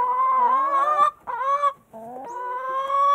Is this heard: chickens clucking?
yes